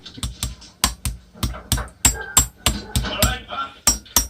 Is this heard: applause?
no